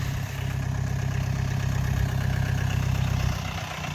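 An old Mahindra CJ 500 MDI diesel jeep chugs close by with a steady low, rhythmic idle-like throb that holds evenly and eases slightly at the end.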